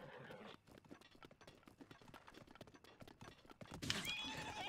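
Horse in The Legend of Zelda: Breath of the Wild, with a run of soft hoof clops across the middle, then a louder bright whinny near the end, preceded by brief muffled sound at the start.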